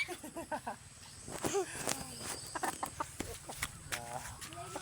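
A chicken clucks and squawks in short, irregular bursts close by, with a rooster-like cry near the end, while people talk and move about around it.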